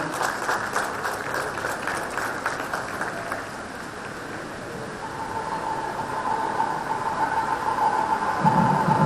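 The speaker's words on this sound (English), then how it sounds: "Let's have a round of applause" Audience applause at a graduation convocation ceremony, a steady wash of many hands clapping across the hall, fairly loud and continuous, with a faint tone and crowd murmur near the end.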